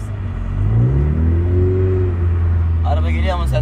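A learner's car engine rises and holds a steady revving drone as the clutch is worked during an in-car driving lesson, loud and close inside the cabin, with a voice speaking over it near the end.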